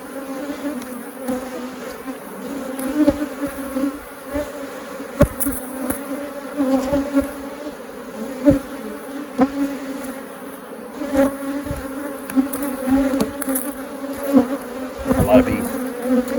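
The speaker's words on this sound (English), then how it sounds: "A lot of bees." A dense swarm of honey bees hums steadily and loudly close to an open beehive box during a hive split, with brief knocks and handling noises.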